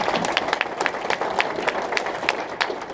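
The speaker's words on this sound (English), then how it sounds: "Applause to them." Applause from a scout banquet audience honoring troops, with scattered sharp claps standing out over a steady patter through the room, fairly close and continuous.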